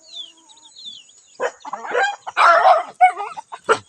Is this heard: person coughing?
no